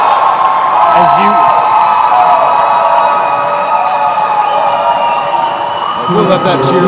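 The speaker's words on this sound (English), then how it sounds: "We'll let that cheer play out." A crowd at the men's final of the 2019 Dodgeball World Championships, USA versus Malaysia, roars and cheers in a steady, loud wash of voices with whoops rising throughout, while a commentator talks over it.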